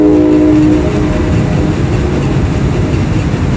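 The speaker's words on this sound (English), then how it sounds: "That whistle helped." A train passing near a nature center, a loud, close, steady rumble of rolling wheels with a sustained horn blast at the start that fades into the ongoing roar.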